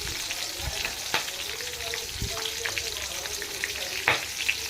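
Masala frying in a pan for a radish sambar, a continuous crackling sizzle punctuated by several sharp spatula scrapes and taps, close and moderately loud with no talking.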